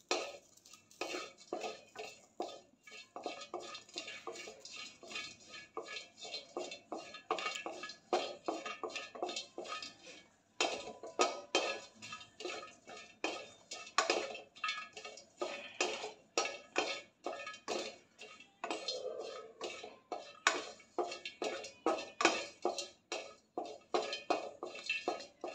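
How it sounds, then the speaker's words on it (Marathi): Small coconut pieces being dry-roasted in a pan for a brinjal curry, with a steady run of quick scraping and clinking strokes from a spatula against the metal, near and fairly loud, no voices. "खोबऱ्याचे मी बारीक तुकडे करून घेतलेले आहेत. खोबरंही लालसर होईपर्यंत भाजून घ्यायचं आहे."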